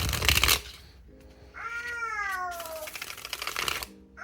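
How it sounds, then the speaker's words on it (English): Oracle cards with high-quality cardstock being riffle shuffled: two bursts of rapid fluttering card riffles, one at the start and a longer one near the end, separated by quieter handling, with a brief tonal sound between them. "Maybe I'll riffle shuffle it for you guys."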